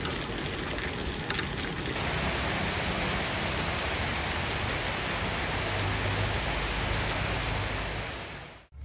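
Heavy rain pours steadily on a rural garden homestead, making a dense, constant hiss with no voices. It fades out at the very end.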